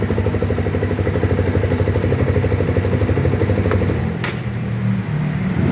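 A Rusi motorcycle engine runs steadily and loud in a dealership showroom, a continuous close mid-pitched putter with a couple of brief metallic clicks near the end.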